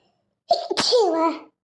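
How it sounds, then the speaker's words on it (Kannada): A single sharp sneeze, close and clear, starting with a quick intake and ending in a voiced burst against silence. "ಯಾಕಜ್ಜಿ ಸೀನ್ತಾ ಇದೆಯಾ, ಏನಾಯ್ತು?"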